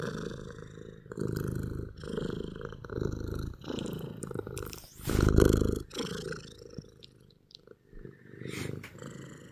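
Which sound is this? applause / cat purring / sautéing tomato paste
cat purring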